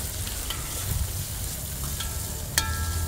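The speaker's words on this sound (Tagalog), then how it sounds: "Gisa muna natin na maigi." Fish and onions sautéing in a hot pan, giving a steady close sizzle and frying hiss with a few light clinks of a utensil, and no talk.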